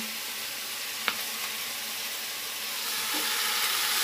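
Winter vegetables being stir-fried in a pan for khichuri, a steady soft sizzle with a single sharp utensil tap early on, no voices.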